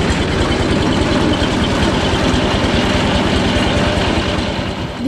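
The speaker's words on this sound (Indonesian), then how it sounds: "Proses penggilingan bisa dilakukan dengan cepat karena menggunakan mesin" A motorized coffee bean grinding machine runs loud and close, its engine chugging in a fast, steady rhythm with a continuous low rumble that holds unchanged for several seconds.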